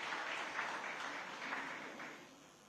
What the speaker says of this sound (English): Can we first have a huge round of applause for the gentlemen joining us here this evening?